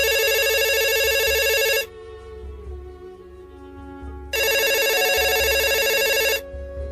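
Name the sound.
telephone ringing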